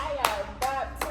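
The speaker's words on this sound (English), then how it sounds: "we have to really applaud that right now" Hands clap three times at an even, unhurried pace, each clap a sharp, close crack. A voice talks underneath between the claps.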